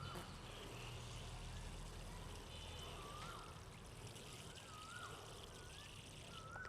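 Water poured steadily onto freshly transplanted seedlings in a garden bed, a continuous rushing, splashing flow that stays even from start to finish with no talk over it.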